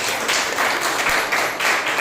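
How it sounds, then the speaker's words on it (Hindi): A church congregation at a Sunday service applauding loudly, dense rhythmic clapping from many hands that stays close and continuous, with faint voices mixed in. "जोरदार ताली बजाएं।"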